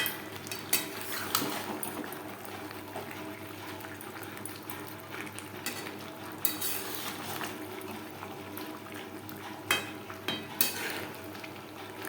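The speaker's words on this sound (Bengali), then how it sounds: "মাংসের সাথে আলু বেশ ভালো করে মিক্সড করে দেবো" Boiled potatoes mixed into chicken in a pan for biryani, giving a steady sizzle and bubbling fry with repeated clinks and scrapes of a spoon against the pan.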